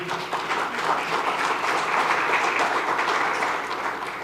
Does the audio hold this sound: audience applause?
yes